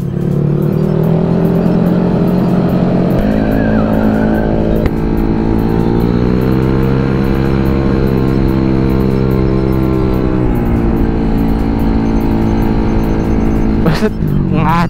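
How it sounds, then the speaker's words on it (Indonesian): A motorcycle speeding along with its engine roaring up through the revs, strong steady harmonics rising and falling with acceleration, loud and close throughout with faint voices mixed in. "Ngacir banget ini motor ya."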